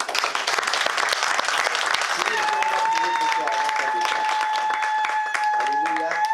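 A church congregation applauding in praise during a French-language worship service, steady dense clapping throughout with voices and a sustained tone rising over the crowd in the second half.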